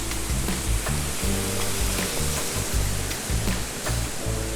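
Rushing water at Harbiye waterfall in Defne, Hatay, a steady broadband roar close by that fills the whole clip with no pause, heard on its own without any voices over it.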